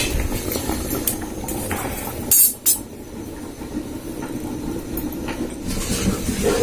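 Steady bubbling and rumbling of water boiling in a pot, continuous and fairly close, with a couple of brief metallic clinks partway through.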